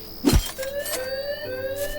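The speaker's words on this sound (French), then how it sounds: "casser une vitre, ça active une alarme." Window glass breaks with a short loud crash, then a house alarm in the video game Thief Simulator starts, a steady electronic tone that shifts pitch and keeps sounding.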